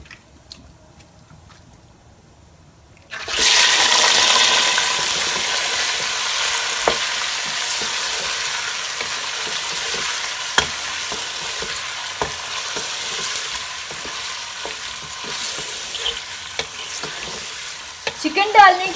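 Chicken dropped into a hot pan for pulao: near silence first, then a sudden loud burst of sizzling that settles into steady frying with scattered clicks and scraping stir sounds, no voices.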